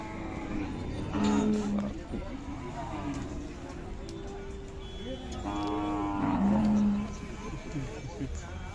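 A Khillar cow at a cattle market in Sangola lows twice, a deep drawn-out moo repeated after a few seconds, amid crowd chatter and people talking nearby.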